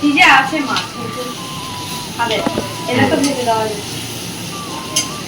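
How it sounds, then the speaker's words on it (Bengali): Oil sizzling in a pan as eggplant fries, a steady crackling hiss with voices talking over it now and then. "তো চলো বেগুনটা ভেজে নিক"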